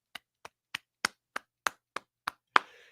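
One person claps alone, nine sharp, close claps at a steady, slightly slow pace with clear silence between them, the last clap louder and followed by a short rustle.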